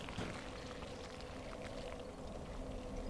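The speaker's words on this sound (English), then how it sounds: "You're the thing that's making the goopy noise." Goopy, bubbling poisonous water in Dark Souls 3, a steady wet gurgling churn that continues without pause at moderate level throughout.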